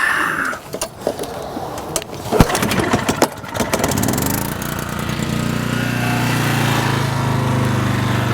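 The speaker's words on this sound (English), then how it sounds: "We start the generator." Small onboard generator for a maple sugaring operation, used to power a sap pump, cranking with clattery pulls before catching and settling into a steady, loud running drone that continues to the end.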